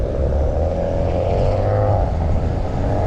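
A steady, rough engine drone from a Maserati car with a worn-out engine, with a low rumble running throughout, loud and close, with no pauses.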